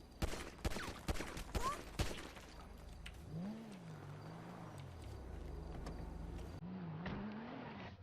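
Rapid gunshots burst out in a GTA roleplay game during the first two seconds, followed by a steady car engine hum with rising and falling revs.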